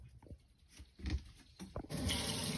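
Water starts running from the faucet of a 2016 Minnie Winnie 25B Class C RV after de-winterizing; a few faint knocks and clunks give way to a steady, loud hiss of flowing water.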